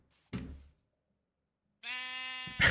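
A sheep gives a short bleat, then after a pause a louder, sustained nasal bleat close by, with a faint thump at the end.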